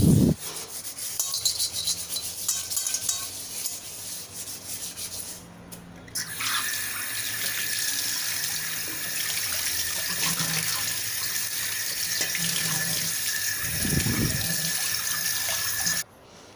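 An iron utensil being scrubbed clean of black stains with a scrubber and cleaning powder: rough rubbing and rasping close by, then a steady stream of tap water running into a sink, with no talking.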